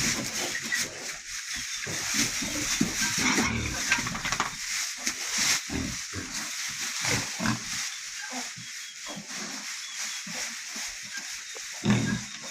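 Pigs in a barn grunt and snuffle intermittently at close range, short low grunts scattered over a hissy background.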